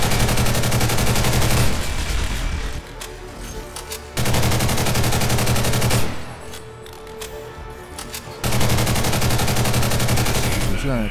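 Rapid automatic gunfire and missile blasts from Ghost in the Shell Online fighting a Tachikoma tank: loud, sustained barrages that cut off abruptly and return, separated by quieter stretches of game ambience.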